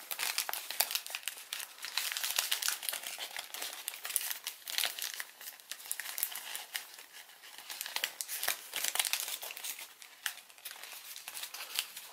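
A sheet of origami paper is creased into valley folds and collapsed by hand, producing continuous close crinkling and crackling with sharp dry snaps scattered throughout, fairly quiet and with no voices.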